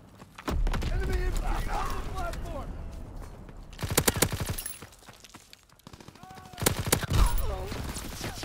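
Fighter plane strafing run in a video game, with bursts of rapid gunfire that hit loudly around the four- and seven-second marks amid engine and battle noise, while voices talk throughout.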